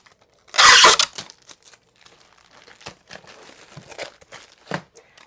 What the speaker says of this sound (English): Add some tape.